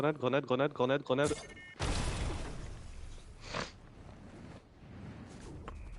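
A grenade explodes in a video game, likely Bed Wars: a loud, broad blast that hangs on as a long rumbling decay, with a smaller burst a moment later. A voice talks just before the blast.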